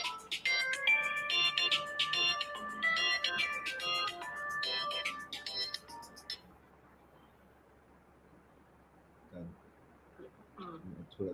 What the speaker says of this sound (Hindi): सर आपका फोन बज रहा है क्या?